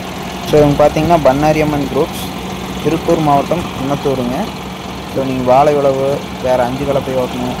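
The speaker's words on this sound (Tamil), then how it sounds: "வெளியே பாருங்கள் எந்த அளவுக்கு இன்ஜின் நாய்ஸ் கேட்குதுங்க." A John Deere 5075E tractor with AC cabin, working a banana field with a five-tine cultivator, idles steadily at low pitch in the background while someone talks continuously over it.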